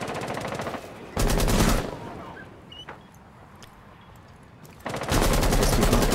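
Automatic weapons rattle in a tactical shooter match, two loud bursts of rapid fire with a quieter stretch of distant shots and clicks between them.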